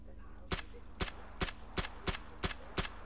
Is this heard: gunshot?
yes